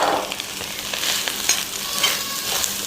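Cooked rice being stir-fried with cumin in a pan, a steady sizzle with scraping stir strokes throughout, fairly close and alone without talk.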